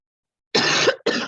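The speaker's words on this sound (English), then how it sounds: "Excuse me, I had to cough." Two close, sharp coughs after a moment of silence, the first longer and the second brief, loud and nearby.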